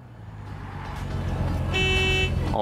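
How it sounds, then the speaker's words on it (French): A car horn in Cyberpunk 2077 blares once in a loud, sustained tone over a rising engine rumble, cut off after about half a second as the driving continues. "Je vais pas m'en sortir avec ce klaxon."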